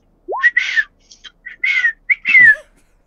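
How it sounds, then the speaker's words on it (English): A person whistles a short series of chirpy, birdlike notes, rising slides and warbling trills with brief pauses between them, close and clear with no talking. "I whistle."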